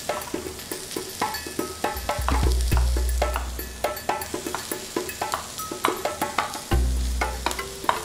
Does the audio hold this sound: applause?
no